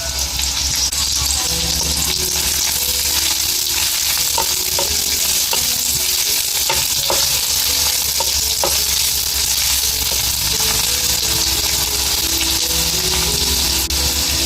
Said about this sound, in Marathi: आता ही मी तेल टाकून घेते. आता ही लसूण टाकून घेते. आता ही मिरची टाकून घेते.